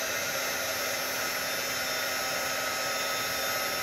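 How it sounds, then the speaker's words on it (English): A heat gun blows steadily over enamel craft paint on a papercraft peony, a loud continuous hissing whoosh with a constant motor whine and no breaks, no voices over it. "take your heat gun and just come down on it."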